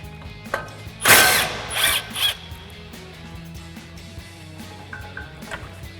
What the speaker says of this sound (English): So we've got our 12mm socket and we'll pop that off.